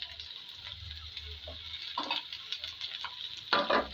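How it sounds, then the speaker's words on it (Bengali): Bitter gourd and potato being stirred in a frying pan, a steady sizzle with intermittent scraping and stirring bursts close by, no talking. "এবার আমি ভালোভাবে নেড়ে চেড়ে দিব।"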